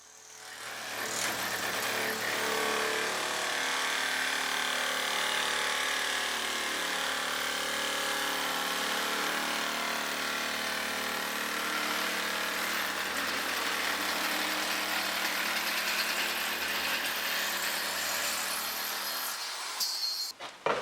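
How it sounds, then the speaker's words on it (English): A DIY router table with a metal top cuts a metal strip, throwing off shavings: a steady, dense, high machine whine runs unbroken for about twenty seconds and then cuts off at the end. "Look at how it spits out metal shavings."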